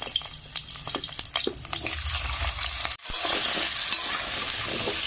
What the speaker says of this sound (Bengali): দিয়ে কুমড়োগুলোও ভেজে নেব।